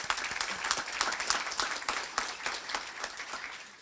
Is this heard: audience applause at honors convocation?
yes